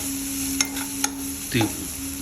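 Chili powder and spices frying in oil in a pan for a Chinese-style Indian egg keema, a steady close sizzle with a few light clicks of a spoon stirring, no voices.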